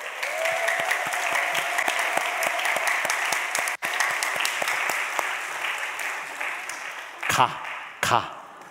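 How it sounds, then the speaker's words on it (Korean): A church congregation gives hearty applause to cheer on the children of the next generation, sustained clapping from many hands, with voices speaking briefly near the end. "너무나 이쁘게 자라나고 있는 귀한 다음 세대 위해서 우리 힘차게 응원의 박수"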